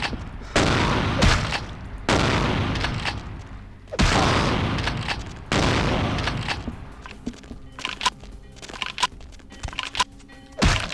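Shotgun blasts from the video game Vampire: The Masquerade - Bloodlines boom out as four heavy, close shots spaced a second or two apart, each trailing off before smaller thuds and clatter follow.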